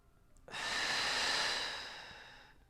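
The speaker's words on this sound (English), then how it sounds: "One more breath." A single long, audible breath taken during a seated yoga twist, a steady close-up airy rush lasting about two seconds that fades gently, with no talking.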